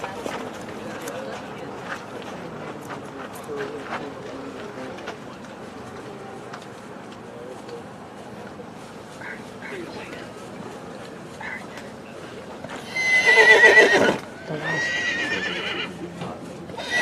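A Morgan horse weanling in a sale ring lets out a loud, sharp neigh near the end, followed by a shorter whinny, over low crowd murmur and light hoof sounds.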